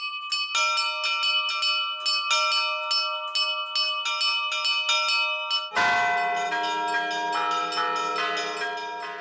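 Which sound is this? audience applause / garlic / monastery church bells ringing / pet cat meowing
monastery church bells ringing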